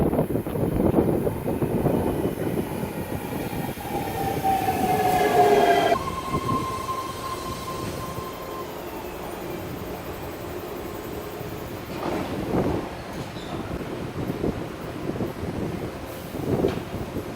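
A BART train in San Francisco runs with a loud, steady rumble of wheels on rails, a high squeal of wheels on the track partway through, and rattling carriage noise, heard from inside or right beside the train.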